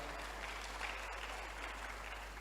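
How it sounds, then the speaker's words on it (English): An audience claps at a mindset and success seminar, a faint, steady patter of hands heard from a distance over a constant low electrical hum. "Clap for them well."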